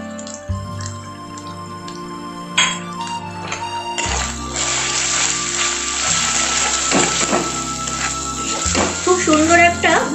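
Spices tipped into hot oil with fried ginger and garlic, a steady close sizzle and crackle running throughout with a few metal clinks of a spoon against the pan, while a voice talks over it.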